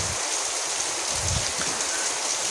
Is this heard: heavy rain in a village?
yes